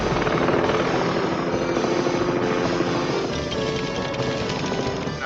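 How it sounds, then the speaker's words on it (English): Blue Thunder helicopter from the 1983 film, steady rotor thump and turbine whine filling the scene at a constant, fairly loud level without speech. "that's such an ugly helicopter"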